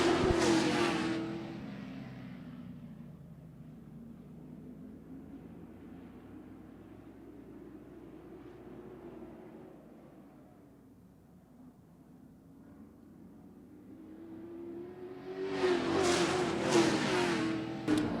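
Modified race cars roar past at Havasu 95 Speedway, a loud engine pass up front, a long droning circuit fading down, then another pack swelling back up loud close by.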